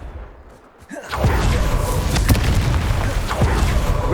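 In Hogwarts Legacy, a Confringo blasting spell erupts after a brief quiet lead-in, a sudden loud boom that settles into a rumbling, crackling roar of fire and debris, with sharper bursts punctuating the sustained blast.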